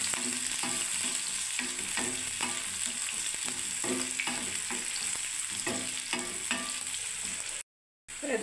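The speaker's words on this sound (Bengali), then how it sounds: "দেখুন বন্ধুরা এখনো ভাজা হচ্ছে" Onions frying in hot oil, a steady close sizzle with regular scraping stirs of a utensil in the pan, briefly cutting out near the end.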